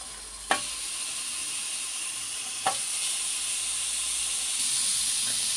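Zucchini slices sizzle on a hot grill pan, a steady bright hiss throughout with two sharp crackling bursts as pieces are laid down, close and fairly loud with no talking.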